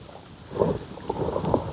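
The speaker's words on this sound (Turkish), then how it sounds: "Yağmur da şiddetini artırdı." Heavy rain pouring down outdoors in the Güzelyurt valley of Cappadocia, a steady broadband wash of falling water with dull low rumbles underneath.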